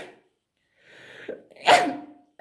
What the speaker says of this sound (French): je vais éternuer, je pense